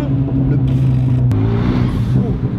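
A Renault 2-litre turbo car engine revving, a loud, steady low drone with a brief sharp click in the middle, heard alone at close range.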